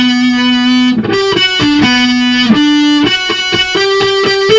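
A distorted electric guitar plays the chorus riff of a song, loud and close, with sustained held notes changing pitch in a steady rhythm over about four and a half seconds, no voices.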